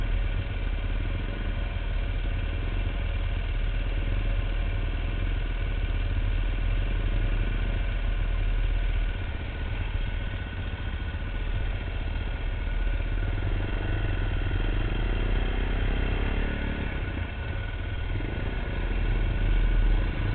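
A motorcycle engine idles steadily and close for the whole stretch, a continuous low throbbing rumble with a faint mechanical clatter and no speech.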